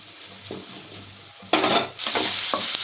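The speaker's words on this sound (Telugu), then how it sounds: "మరి మరీ ఒకసారి కలిపేస్తున్నాము ఇంకా కొంచెం ఫ్రై కావాలి" Gobi fried rice is tossed and stirred in a hot pan: a few soft spatula scrapes, then loud bursts of sizzling with metal scraping against the pan. Close and continuous, with no speech.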